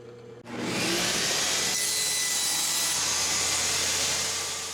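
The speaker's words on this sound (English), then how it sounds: "here I'm drilling a hole in the middle for the bolt" A power drill bores a hole through the middle of a plywood scrap for a bolt. It starts abruptly and then grinds on loud and close, holding a steady, rough whirring with a slight shift partway through.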